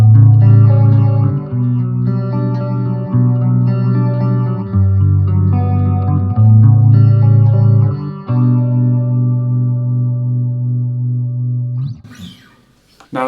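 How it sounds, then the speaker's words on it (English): Electric guitar played through the phaser effect of a Line 6 Spider 15 Classic amp with a little reverb, sustained chords and notes sweeping with a swirling phase motion, loud and close, then a short rustle at the end. "and we'll move around to the phaser."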